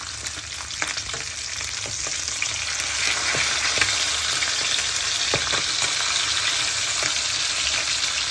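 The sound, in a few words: salmon frying on a tawa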